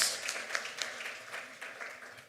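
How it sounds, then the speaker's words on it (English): Applause from an audience at a Ghanaian government launch event for a sustainable cities strategy, welcoming an honoured guest. It is a steady, moderately faint wash of many hands clapping, with scattered sharper claps rising out of it. "let's congratulate her with a big round of applause, please"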